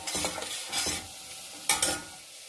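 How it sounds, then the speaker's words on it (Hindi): Chopped onions frying in a pan give a close, crackling sizzle that swells in bursts as they are stirred, with one sharper scrape late on. "देखिए प्याज को 2 मिनट तक फ्राई किया।"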